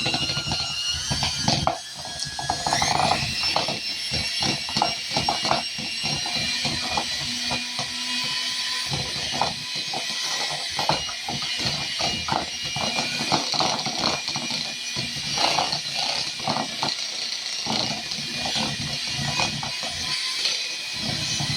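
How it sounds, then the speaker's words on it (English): An electric mixer beats hummingbird cake batter, a continuous loud whirring and rattling drone that fills the whole stretch, with uneven clatter as the beaters strike the bowl. "And I got my electric mixer here. So we're going to mix this up,"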